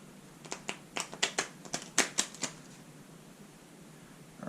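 A deck of playing cards riffled and shuffled during a card trick, a quick run of crisp snapping flutters that bunch together before trailing off into quiet.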